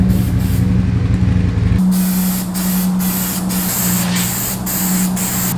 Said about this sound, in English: we have to lightly edge primer all the metal spots that I was talking about